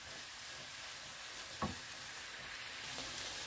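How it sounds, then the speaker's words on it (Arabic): Green peppers and onion frying in a pan, a steady close sizzle running throughout with a faint clink of a utensil partway through. "ها هما يتشحروا ليا هاد الفليفلات وهاد البصله"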